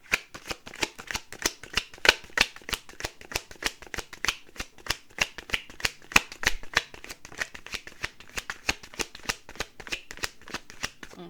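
A deck of oracle cards being shuffled, a long steady run of quick riffling card snaps close to the mic, with no talking.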